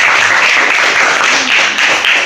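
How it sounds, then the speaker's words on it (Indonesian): Applause from a classroom group, steady dense clapping held for a couple of seconds at a fairly loud, even level with no clear talk over it. "Ya, oke, tepuk tangan dulu."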